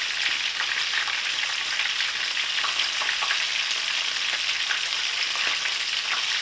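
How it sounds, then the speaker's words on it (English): Vietnamese spring rolls deep-fry in oil with a loud, dense, unbroken sizzle and fine crackling that holds steady from start to finish. "Maybe I'll fry them this time"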